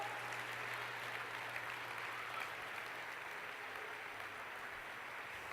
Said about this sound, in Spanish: Dale el aplauso que Él te está mirando.